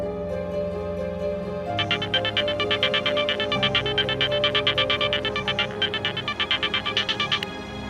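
A phone rings with a rapid, pulsing electronic ringtone that starts after a quiet opening and repeats steadily for several seconds, clear and close in an indoor scene.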